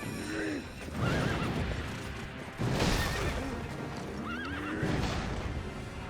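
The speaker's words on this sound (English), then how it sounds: "Jacked horse." A muscular horse from the game Sekiro neighs loudly twice with whinnying trills, mixed with clip-clopping hooves and rumbling movement throughout.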